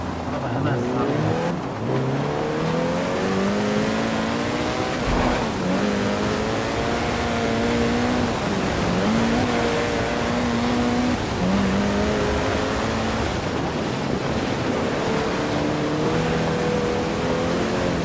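Car driving in Forza Horizon, a continuous engine drone with rising and falling revs through gear changes, loud and steady, with someone talking over it throughout.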